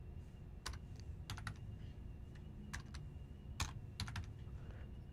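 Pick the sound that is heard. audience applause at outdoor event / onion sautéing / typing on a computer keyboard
typing on a computer keyboard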